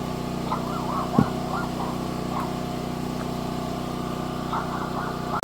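A Wen generator with electric start runs at a steady hum, with a few brief clanks and chirps over it and a loud knock right at the end.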